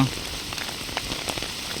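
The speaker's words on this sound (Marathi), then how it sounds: "हे पाऊस प्रचंड आहे पाऊस जबरदस्त आहे बघा" Heavy rain pours at Lanja in Ratnagiri, where an event ground is being prepared for a dirt-bike festival, producing a dense, steady hiss with scattered sharper drops splashing close by.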